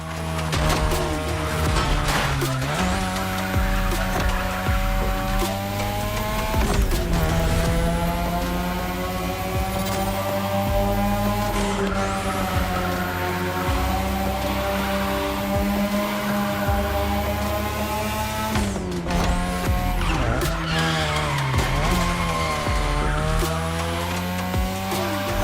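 A high-speed car in The Crew Motorfest racing game, its engine droning loud and steady with gear-shift dips and tyre squeal through a tunnel stretch over a backing music bed.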